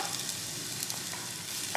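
Minced garlic and finely chopped jalapeno frying in a pot of oil, giving a steady, moderately quiet sizzle with faint crackles throughout, with no voices over it.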